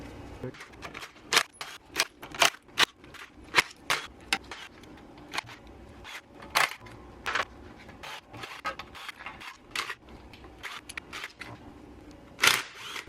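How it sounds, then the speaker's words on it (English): An impact wrench loosens the Torx T40 bolts on a BMW ZF automatic transmission oil pan, firing in short, sharp rattling bursts with pauses between them throughout, close to the listener. "If you have an impact or something like this, it's gonna make it a lot easier for you to remove all these bolts"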